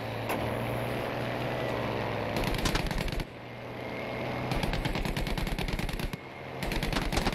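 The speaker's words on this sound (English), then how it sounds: "He's shooting at you guys." Machine gun fire in the World War II shooter Battlefield V: several sustained bursts of rapid automatic shots, separated by short pauses, over a low rumbling engine drone.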